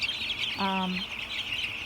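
A single short chicken cluck stands out briefly against a steady background of hissy outdoor noise.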